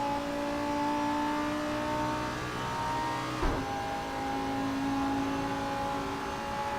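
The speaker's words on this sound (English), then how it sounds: "Now this is wide open throttle, full speed, shifting highest I can." A Lamborghini Huracan Super Trofeo race car screams at wide-open throttle in Assetto Corsa, its engine holding a high, steady note with a brief shift blip midway before the howl resumes, loud and close throughout.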